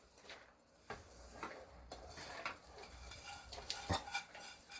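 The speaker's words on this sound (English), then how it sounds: "I'm gonna mix all things in here" Potato paratha filling of onion, red chili and spices being mixed in a bowl, with soft clinks and scrapes of a spoon against the bowl, quiet and close.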